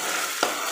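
Spice masala with cumin powder frying in a pan for a brinjal curry, a soft, even sizzle broken by one brief spoon scrape.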